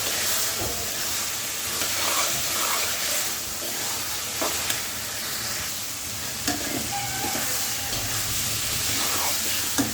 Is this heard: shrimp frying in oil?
yes